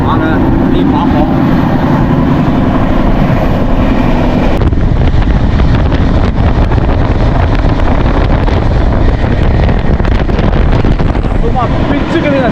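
A train bound for Thiruvananthapuram Central rushes past at high speed, a loud continuous roar with heavy wind buffeting the microphone throughout, shifting in tone partway as the carriages go by.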